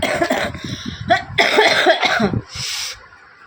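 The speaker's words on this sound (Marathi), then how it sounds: "खोकल्याने मला एवढं हैराण केलंय ना" A person coughs several times in quick, harsh bursts close by, followed by a short raspy exhale.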